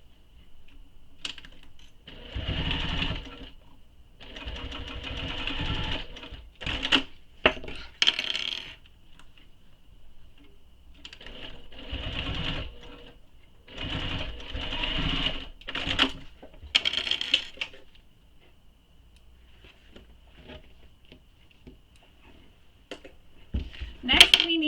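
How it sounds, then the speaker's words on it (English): A sewing machine bastes a strap connector onto the gusset of a small messenger bag, running in two long stitching bursts separated by brief stops, with scattered clicks and handling noises between them. "I'm going to baste the strap connector to the gusset"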